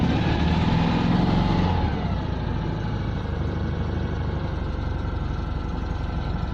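A Citroën 2CV named Elly, at an autosolo event, settles into a steady, throbbing idle after starting, a close, loud, even engine note with the throttle just released.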